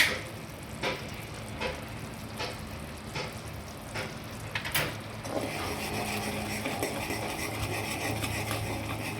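Sugar syrup with ghee being stirred in a pan, a soft low bubbling under repeated rhythmic scrapes and taps of a spoon against the metal, fairly quiet and close.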